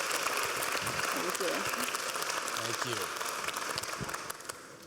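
A hall full of people applauds steadily at an award ceremony for a Lifetime Achievement Award winner, the dense clapping loud and continuous, easing slightly toward the end, with a voice briefly speaking over it.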